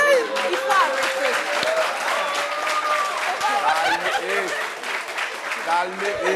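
Applause from a studio audience on a French talk show, dense lively clapping with scattered chuckles and voices mixed in, steady throughout.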